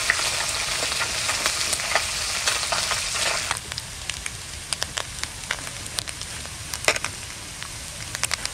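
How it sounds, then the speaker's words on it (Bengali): Small mourala fish fry in hot oil with a dense, loud sizzle that suddenly drops to a quieter crackle, sharp pops scattered on top. "তেল গরম হয়ে গেছে, এখন মাছগুলো ভেজে নেব"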